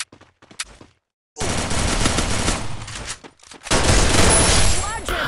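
Groza rifle fire in a battle royale game: a few faint clicks, a pause, then two loud sustained bursts of rapid automatic gunfire separated by a brief gap.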